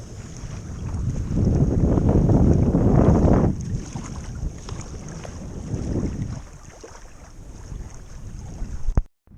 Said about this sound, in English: It's an MSR wind burner.